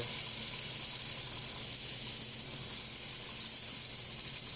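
Steam wand on a Profitec EXOBAR espresso machine hisses steadily and loudly for the whole stretch, a continuous high airy rush with no talking.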